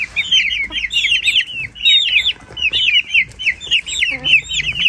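Roosters and hens cluck and chirp close by in a farmyard flock, a busy stream of overlapping short calls with brief pauses and low background noise.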